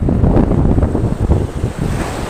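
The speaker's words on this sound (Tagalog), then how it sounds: "Lakas lang talaga ng alon, no?" Strong ocean waves crash and churn around a boat during a sea fishing trip, a loud, continuous roar of surf and water mixed with heavy wind buffeting the microphone.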